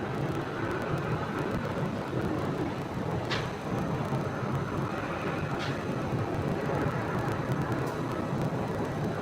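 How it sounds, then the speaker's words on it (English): An American Airlines Boeing 787 Dreamliner heavy jet at Phoenix airport produces a loud, steady broadband roar that fills the whole stretch without a break, with a couple of faint brief higher sounds over it and no talk. "We have an American Airlines heavy jet right there."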